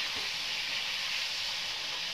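Deshi chicken meat fries in a covered pan while cooking a chicken kosha curry, giving a steady, even sizzling hiss throughout.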